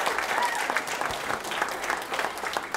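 Guests at a scholarship dinner applaud, a steady, full round of clapping from the audience that lasts a few seconds with a faint murmur of voices beneath.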